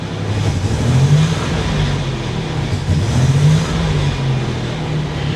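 A Buick Grand National's engine runs close and loud with an uneven rattling, the pitch rising and falling slightly as it idles roughly, with no talking over it.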